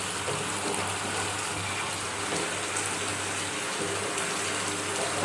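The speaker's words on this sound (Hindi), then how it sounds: "देखिए हमने यहाँ हाफ छोटी गिलास पानी भी डाल दिया है।" Water poured into a pan of Bengali chicken kosha curry, a steady soft gushing splash that runs continuously at moderate volume with no talking.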